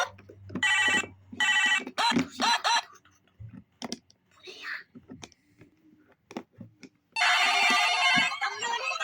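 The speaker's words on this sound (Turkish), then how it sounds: "Yavuz Bey telefonun çalıyor." A telephone rings in repeated electronic bursts, loud and close, between stretches of speech and a few clucking sounds.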